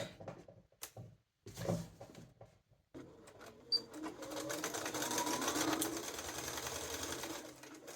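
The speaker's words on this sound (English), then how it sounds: "you're sewing these two pocket bags together" A sewing machine stitches two pocket bags together for an inseam pocket on a duster garment, starting with short bursts and then running in a continuous close mechanical whir.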